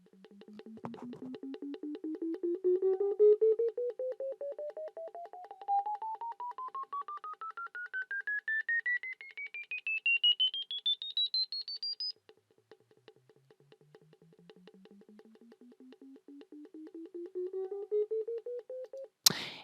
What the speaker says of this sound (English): I've got Scopy network analyzer, and it sounds about like this.